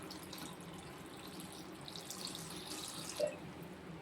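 Water poured into a pan of chickpea kurma, a soft, continuous trickling and splashing at low volume with a small splash near the end.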